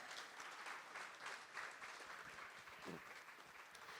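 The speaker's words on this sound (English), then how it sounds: "Let's give them a big round of applause" An audience at a celebration gala gives a sustained round of applause, a dense steady wash of clapping hands that continues evenly throughout, slightly distant.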